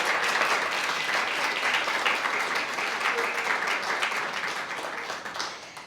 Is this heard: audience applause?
yes